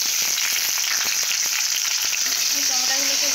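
Tomatoes fry in hot mustard oil with a steady, close crackling sizzle and scattered pops, a few faint clinks near the end, with no talking.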